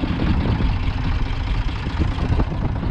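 A Ford 3000 tractor idles up on a mountain, its diesel engine putting out a steady, close, low rumbling chug with no pauses.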